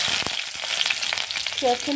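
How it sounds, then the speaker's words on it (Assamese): Continuous crackling sizzle of onions and green chilies frying in mustard oil, close and steady, with a brief stirring scrape near the end; no talking. "জলকীয়াকেইটা ভজা হৈ গ'ল আৰু ইয়াতে দি আছোঁ পিঁয়াজখিনি"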